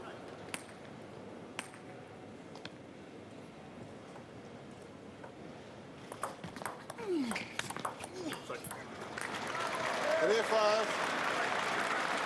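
A table tennis crowd at a men's singles final applauds along with a player. Clapping starts sparse and quiet, then swells into fuller applause toward the end, with a commentator talking over it.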